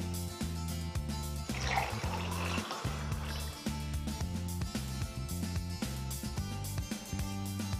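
Water pouring into a glass, a soft trickling fill that swells briefly near the start, faint against a steady rhythmic music bed that plays throughout.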